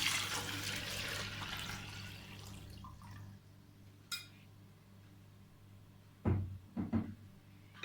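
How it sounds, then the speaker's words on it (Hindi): Water gushes into a blender jar for lychee juice in a kitchen, a broad rushing pour over the first few seconds that fades, followed by a few quiet knocks and clatters. "ब्लेंडर में मैं पानी डालूंगी।"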